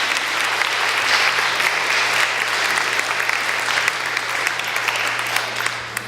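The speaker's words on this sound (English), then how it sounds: "Give Peter a round of applause" A seated audience gives Peter a warm, steady round of applause that carries on evenly for several seconds over a low constant hum, tapering slightly at the end.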